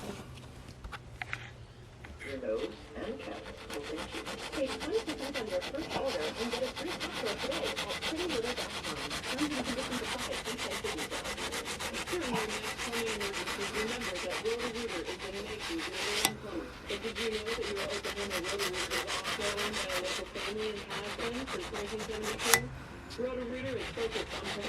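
A knife handle is sanded and cleaned up by hand, producing a continuous rasping, rubbing scrape in steady strokes that lasts the whole stretch, close and fairly even in level, with a few louder bumps.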